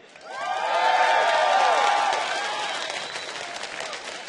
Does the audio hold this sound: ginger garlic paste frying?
no